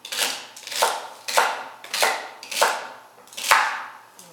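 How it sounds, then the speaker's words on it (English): A knife chops through celery stalks on a cutting board for a bite-sized salad, six crisp, evenly spaced strokes about every 0.6 seconds, close and clear with no voices. "now that we're done chopping the celery"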